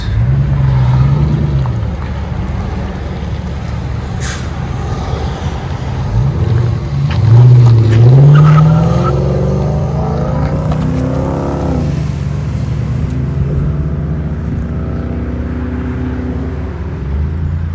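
A Dodge Charger R/T with a 5.7L HEMI V8 and a Flowmaster Flow FX exhaust gives a steady, deep exhaust rumble that swells briefly in a rev partway through, then settles back to a loud idle drone.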